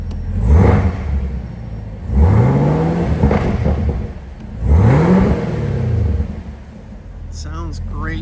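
A 2022 Camaro ZL1 with a 650 hp supercharged LT4 V8 and automatic gearbox revs three times up close, each sharp rising roar falling back to a loud idle between blips.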